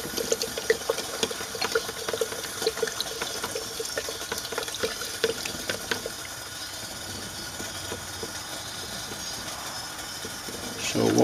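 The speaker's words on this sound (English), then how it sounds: "we actually made it down to our second clear rinse, and I'm actually hitting it one more time just to be safe" Running water rinses refined sterling silver in a second clear rinse, a steady broadband wash of flow with scattered clinks and splashes throughout, fairly close and continuous.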